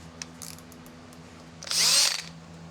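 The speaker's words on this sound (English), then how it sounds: "just gonna go with the Unibit because it is faster" A Unibit step drill bores out a spot weld in the steel firewall of a 1930 Model A, a short loud grinding whine of about half a second rising over quiet shop background, preceded by faint clicks.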